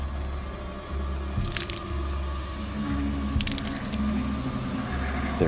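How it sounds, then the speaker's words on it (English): Crunching of pine needles underfoot outside a tent in a scary animated story, two sharp crackling bursts over a low droning, rhythmic ambient tone. "The crunch of those needles."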